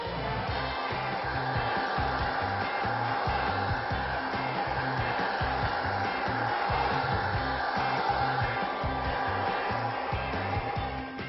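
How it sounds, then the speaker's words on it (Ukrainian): A hair dryer blows steadily and loudly up close over shoes being stretched, a continuous airy whoosh with a low motor hum, running without pause. "І далі по всій цій красі проходимось феном."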